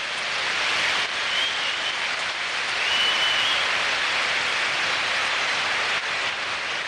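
A football stadium crowd in a Bundesliga match, Borussia Dortmund against Stuttgart, applauding a substituted player, heard as a broad, steady wash of distant clapping and crowd roar with no clear individual sounds.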